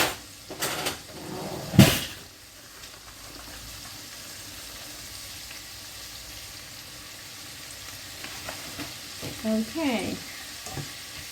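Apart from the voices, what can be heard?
stirring flour into chicken in beer sauce in a pot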